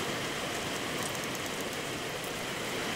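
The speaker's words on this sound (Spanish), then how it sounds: "Ya está lloviendo ahora sí." Rain falls steadily on a mountain road between villages, a soft, even hiss with no breaks and no voices.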